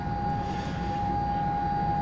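Ilyushin IL-62 jet engines in Flight Simulator X run as a steady, continuous drone with a fixed whine, holding even and fairly loud throughout with no talk over it.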